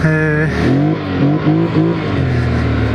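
Engine of a Polaris Scrambler 1000 XP quad with a 1000 cc engine revving close by, a loud steady drone rising and falling in pitch through several short throttle blips.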